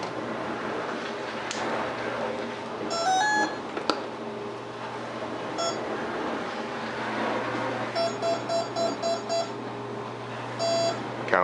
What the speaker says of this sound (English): Counted the six beeps for the six cell.